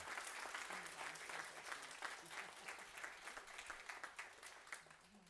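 Audience applause for graduates at a lunch-and-learn event on special dockets, a steady crowd of hands clapping for about five seconds at moderate distance, easing off slightly near the end.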